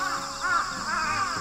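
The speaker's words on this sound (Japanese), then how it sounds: "めっちゃうるさいな、カラス。" Morning crows cawing outdoors, several loud, rasping calls in a row over a constant buzzing background.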